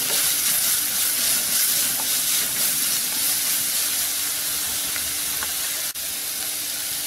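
Grated carrot and onion sauté for poha upma in a pan, giving off a steady, even sizzle and hiss that holds at one level throughout, with a few faint ticks and no voices.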